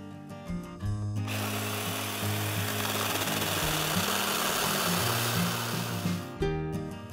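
A power drill fitted with a 1 1/2 inch boring bit cuts a shallow hole into a piece of birch wood, a loud continuous grinding whir that starts abruptly and stops after about five seconds.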